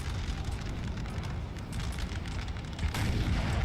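Napoleonic-era artillery opening fire in the game Napoleon: Total War, a continuous rumble of distant cannon booms and battle noise with a sharper blast near the end.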